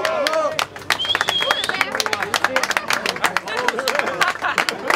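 A small group applauds Tour de France riders beside the team bus after the final stage, with brisk, close clapping throughout and voices talking and calling out over it.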